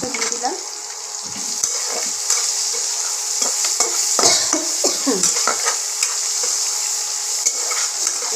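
Raisins sizzling in hot oil in a pan with a steady frying hiss, while a utensil stirs and scrapes against the metal in scattered close clicks and knocks.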